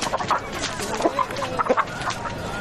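A rooster being readied for a cockfight gives repeated short clucks and squawks, close and fairly loud, over background noise with no clear talk.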